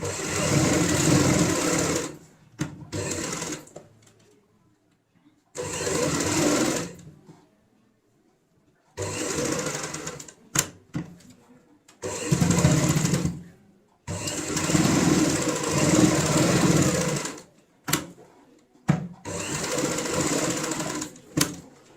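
A sewing machine stitches a ladies' handbag along its buckram stiffening, running in loud bursts of steady whirring separated by short pauses, with brief clicks between runs.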